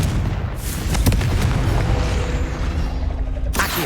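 The Confringo spell explodes in Hogwarts Legacy, a heavy rumbling boom with crackling debris, loud and sustained for a few seconds before cutting off abruptly.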